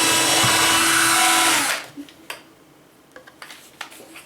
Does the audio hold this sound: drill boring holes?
yes